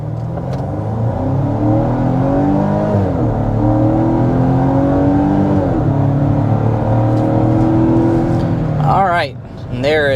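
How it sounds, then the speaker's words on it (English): A 2024 Volvo V60 Cross Country under hard acceleration, its engine note climbing steadily through several upshifts, loud and close from inside the cabin, easing off near the end. "let's go ahead and get into it with a hard acceleration"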